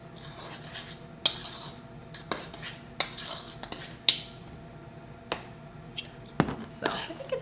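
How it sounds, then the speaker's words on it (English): A spoon stirs flour, sugar, cocoa and salt together in a bowl for cupcake batter, with soft scraping and intermittent clinks against the bowl, close and fairly quiet under faint whispery room noise. "just gonna stir all of those together"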